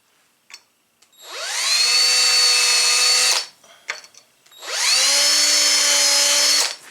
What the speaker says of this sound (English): I'm doing my little screws first, whatever they call those.